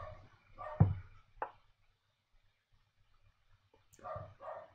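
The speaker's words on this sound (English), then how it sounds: "My dog is just getting really excited for some reason." Excited pet dog barking in the background of a home, a few sharp separate barks spread over several seconds with quiet gaps between them and a final double bark, moderately loud, no voices.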